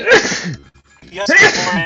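A single sharp human sneeze right after a spoken phrase, with a second burst of voice following shortly after; close and fairly loud.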